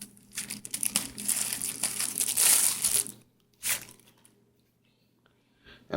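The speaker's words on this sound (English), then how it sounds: "your remote's going to come in the plastic wrap" A BLKBOX remote is unwrapped from its plastic wrap with loud, close crinkling and crumpling for about three seconds, then one short rustle and faint handling noises.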